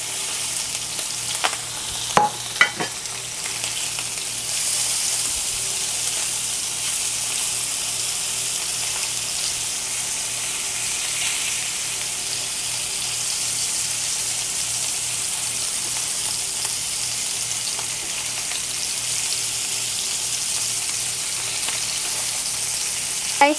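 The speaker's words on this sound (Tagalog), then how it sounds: "So, ilalagay na natin yung ating chicken breast. Dito natin siya ipa-fry para manuot talaga yung flavor ng bacon" Chicken breast fries in rendered bacon fat with a constant, close sizzle and occasional crackles and stirring clatter throughout.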